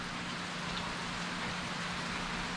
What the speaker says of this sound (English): but it has been raining solidly for the last